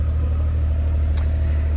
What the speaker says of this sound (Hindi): ये देखें जी गाड़ी भी मैंने स्टार्ट कर ली है